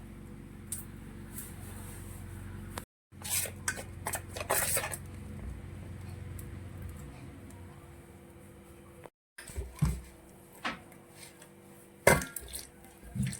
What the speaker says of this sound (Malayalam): നമുക്കിത് എല്ലാം കൂടി ഒന്ന് മിക്സ് ചെയ്യാം